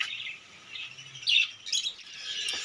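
Pet birds kept indoors in a room chirp and tweet in short bright bursts, a clearer call rising midway and more chatter toward the end, fairly faint and close with no talking.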